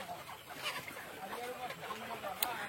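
Sonali chickens at a poultry farm give soft, scattered clucks over a faint hum, close but quiet, with a sharp click near the end.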